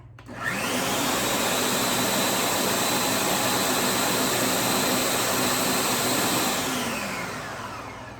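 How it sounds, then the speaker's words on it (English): A countertop blender runs on high, pureeing a hot loaded potato soup, a steady loud roaring whir that holds for several seconds and then winds down, with no voices. "Then we're gonna blend until we have a smooth puree. I'm gonna do high."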